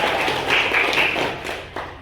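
Students in a classroom clap for a group, a dense patter of hand claps spread through the room over a couple of seconds, with scattered louder taps near the end.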